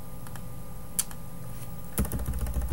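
Quiet typing on a computer keyboard, scattered soft clicks that thicken into a faster burst of keystrokes near the end, close but low in level.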